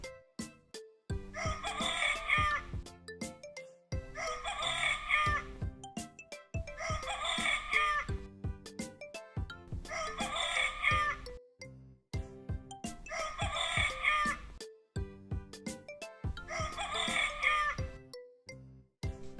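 A rooster crows six times in a row, each long cock-a-doodle-doo loud and close, with short pauses between calls and no talking.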